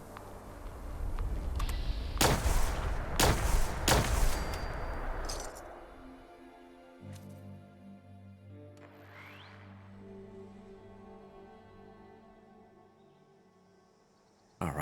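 Grenades going off in Fallout 76: a cluster of sharp, booming blasts in quick succession, loud and close, followed by a long ringing, fading tail with tonal game sounds and no talk.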